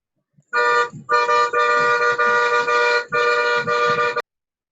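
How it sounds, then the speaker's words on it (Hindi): A car horn honks in a series of long, loud blasts with brief gaps between them, bright and close. "तेरे हॉर्न बजते यहाँ तक सुनाई दे रहे हैं।"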